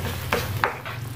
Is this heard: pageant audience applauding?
no